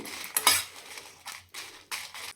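A metal spoon scrapes and clinks against a pan as fried chillies are stirred, several short separate strokes with quiet gaps between them and no talk.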